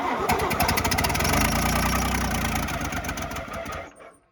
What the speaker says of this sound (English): Were you keeping the starter going, or was it running by itself?